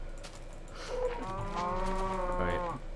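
A Minecraft cow lets out one drawn-out, close moo that rises and holds for about two seconds, heard over faint keyboard tapping in the background.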